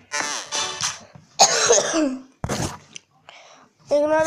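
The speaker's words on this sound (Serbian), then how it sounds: "Ignorišite ovo što kašljem." A man with a cold gives several harsh coughs and throat-clearing bursts close to the microphone, with short pauses between them.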